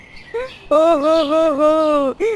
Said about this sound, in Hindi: कबूतर और उसकी पत्नी का शोर पूरा जंगल सुन रहा